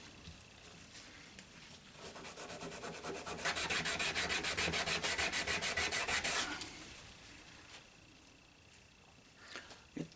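A Scotch-Brite pad scrubs the finish of a Pietta 1858 Remington Sheriff's model revolver, with citrus strip in use. A steady, close, fairly quiet rasping rub runs for several seconds, then fades out.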